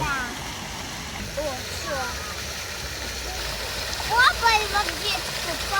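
Continuous splashing water from a fountain in Uman, Ukraine runs throughout, with children's voices and chatter rising over it.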